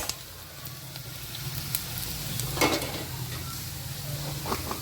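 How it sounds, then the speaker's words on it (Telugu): Thinly sliced onions frying until brown in a pan for dry chole, a continuous soft sizzle with occasional light stirring clicks and scrapes throughout. "ఎల్లిపాయలు సన్నగా కట్ చేసి పెట్టుకున్న, ఇలా బ్రౌన్ కలర్ రావాలి."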